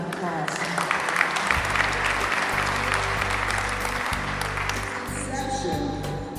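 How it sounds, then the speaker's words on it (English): A roomful of people applauding at a Social Security party at the James Monroe Senior Center, sustained clapping at moderate volume with a low hum and some voices beneath. "Let's give her another round of applause."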